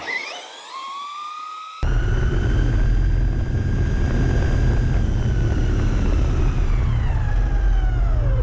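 A Traxxas R/C car screams past on a speed run, with a rising high-pitched motor whine that suddenly jumps to a loud, steady roar and then slowly fades with a falling pitch as it speeds away.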